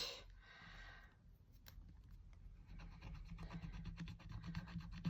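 A coin or nail rubbing across a scratch-off card, making quiet, rapid rasping strokes that grow denser toward the end, close with no talk.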